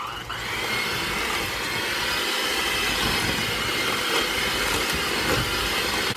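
Electric mixer creaming butter with white and light brown sugar at medium speed, a loud steady whirring drone with a rough grinding texture that runs unbroken, with no talking.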